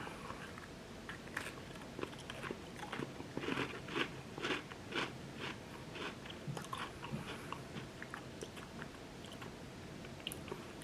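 Crunchy gingerbread cookies are bitten and chewed close to the mic, giving a steady stream of crisp crackling crunches over about ten seconds with no talking.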